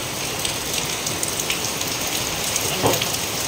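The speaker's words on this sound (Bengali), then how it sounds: "মারাত্মক বৃষ্টি হচ্ছে বাইরে" Steady, dense downpour of heavy rain drumming on surfaces, loud and continuous with scattered sharper drips throughout.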